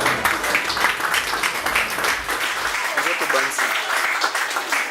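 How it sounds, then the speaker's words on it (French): Applause from a comedy club audience at a French stand-up show, a dense, loud wash of clapping and crowd noise filling the whole stretch, with a voice briefly rising through it. "Applaudissez, applaudissez."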